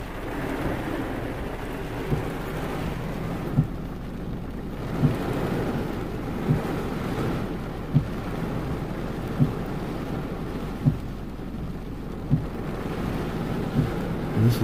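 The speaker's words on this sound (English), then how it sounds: "It's pouring down rain." Heavy rain pours onto a parked car during a storm from Alberto, a dense steady hiss heard from inside with regular drips or thuds on the roof and a low rumble beneath, no one speaking.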